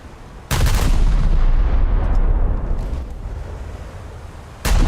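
Ship's guns firing in a naval warfare video game, a loud booming salvo that rolls on for several seconds and slowly fades, then a second sharp blast starts at the end, with no talking.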